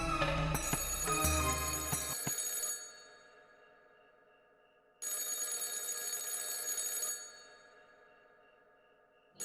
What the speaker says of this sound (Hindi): ये इतनी रात को किसका फोन आया?